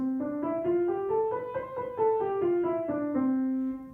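One instrument walks up a diatonic scale from C and back down, each note distinct and steady, played alone at moderate loudness.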